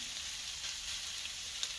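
Sausages frying in a pan before tomato sauce goes in, a steady, fairly quiet crackling sizzle that runs throughout with no voices.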